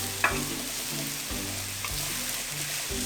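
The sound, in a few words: meat sizzling in frying pan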